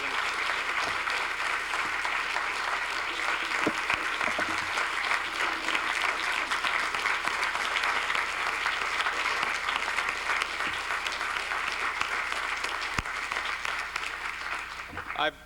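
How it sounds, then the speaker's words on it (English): Long, sustained applause from a large audience after a speech, an even wash of clapping that holds at a steady level for over fifteen seconds before starting to ease. "I think that's the longest applause yet"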